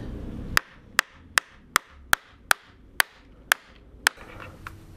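A hammer drives nails into a piece of wooden fencing with about ten sharp, evenly spaced knocks, loud and close, each ringing briefly before the next blow.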